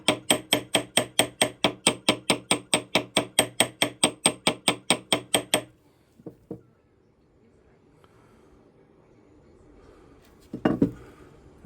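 A ball peen hammer taps metal in a fast, even run of about thirty sharp ringing strikes, then falls quiet apart from a few scattered knocks and handling sounds.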